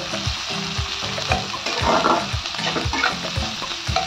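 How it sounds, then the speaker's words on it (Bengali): Two large sliced onions fry in oil in a pan for chicken changazi, a loud bright sizzle broken by repeated scraping stirs at an uneven rhythm. "ভেজে নেব। এটা মধ্যে আমি প্রায় বড় বড় 2টো পেঁয়াজ দিয়েছি।"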